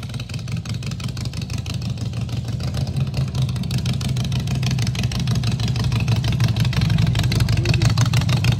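A lowered Harley motorcycle engine idles nearby with a low, steady chugging rumble that swells slightly louder over several seconds, no voices.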